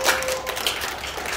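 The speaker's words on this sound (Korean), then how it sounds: "박수 한번 치셔야지." An audience claps hands at an indoor sales presentation, a brief burst of dense applause that starts loud and quickly thins out.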